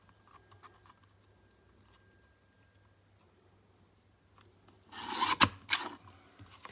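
A paper trimmer slicing through paper for a handmade notebook: a quiet stretch of faint taps, then one brief rasping cut near the end, close and crisp, with no talking.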